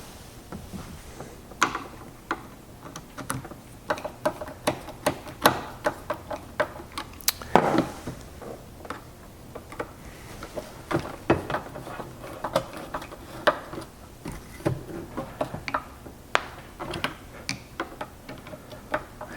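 Screws being tightened on a WaterBoss water softener, heard as a steady run of small close ratcheting ticks and clicks from a screwdriver, irregular but continuous for many seconds with no speech.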